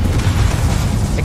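Confringo spell explosion in Hogwarts Legacy, a loud, steady low rumbling boom that fills the whole short moment without pause.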